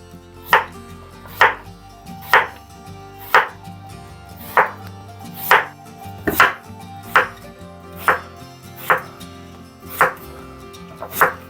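Knife chopping through potatoes into rounds for an oven-roasted chicken dish, about eleven crisp, evenly spaced cuts at a steady rhythm, close and clear with no talking.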